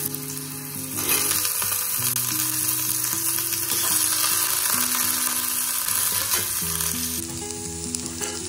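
Potatoes frying in a pan with cinnamon and mace, a steady loud close sizzle under repeated stirring scrapes that carries through without pause.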